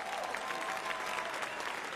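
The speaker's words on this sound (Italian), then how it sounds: "è partito anche l'applauso spontaneo" Spontaneous applause breaks out from a concert audience at a show, a fairly faint, continuous wash of many clapping hands with some crowd murmur beneath it.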